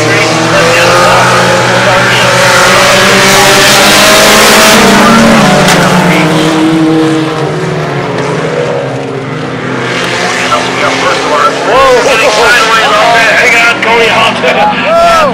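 Race cars, including a Z28, roar around a track in a heat race, loud continuous engine noise with revving, passing cars and tire squeal, under a public-address announcer calling the action.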